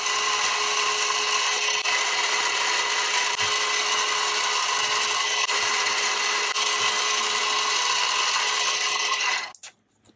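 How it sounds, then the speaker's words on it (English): A very stiff center drill bores pilot holes into a metal tremolo block for a vintage Epiphone S-500 guitar, making a loud, continuous high whine with a steady tonal hum that cuts off abruptly at the very end. "Those were just the pilot holes using a very stiff center drill."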